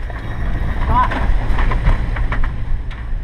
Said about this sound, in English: Later, stronger winds have arrived.